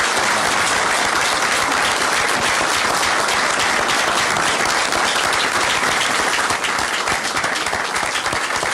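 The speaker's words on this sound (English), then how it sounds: "Turn it down for the applause" A large crowd applauds steadily at the state capitol after a governor's announcement, a dense, continuous wash of clapping with no break.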